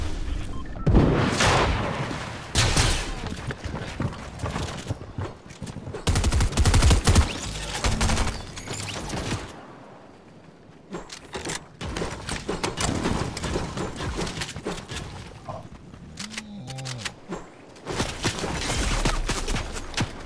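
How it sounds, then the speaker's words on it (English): Video game gunfire crackles in dense rapid volleys and scattered single shots, loud and close, with a brief lull midway before the firing resumes and continues in bursts to the end. "Who's shooting at us?"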